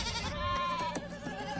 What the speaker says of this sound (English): He freed the goat.